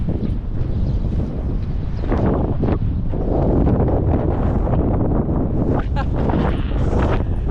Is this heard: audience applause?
no